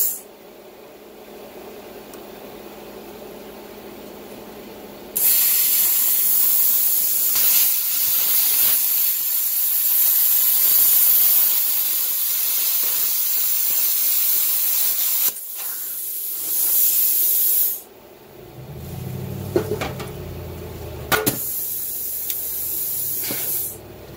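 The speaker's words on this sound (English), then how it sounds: "I set my torch down and it triggered just like a grinder" A Toosense Cut50P pilot arc plasma cutter torch hisses loudly when its paddle switch triggers. It runs in long, steady bursts of airy hiss separated by quieter gaps, with some low clunks and rumbles near the end.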